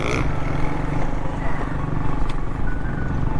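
A motorcycle rides along a street at night as light drizzle begins, its engine a steady buzzing drone with some clatter, fairly close and continuous throughout.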